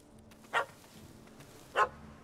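Two short, sharp dog barks from a small puppy in The Witcher 3, spaced about a second apart over quiet game ambience with no talking.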